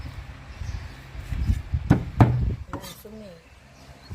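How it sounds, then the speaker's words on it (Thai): A few sharp cleaver chops strike a wooden board as duck meat is chopped for larb, amid kitchen clatter, with faint voices and background noise around them. "หั่นแล้วก็สับ"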